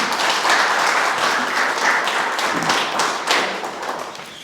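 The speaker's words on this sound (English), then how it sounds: "let's give them all another round of applause" Applause from the audience at the Miss Samoa NSW 2026 pre-pageant interviews, a dense, steady round of many hands clapping that swells slightly midway, with little talk.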